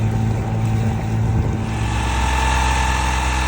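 A Yanmar 3YM30 marine diesel on a sailboat, running in reverse at about 1100 RPM while anchoring, gives a loud, steady, close droning rumble with constant low tones and no break.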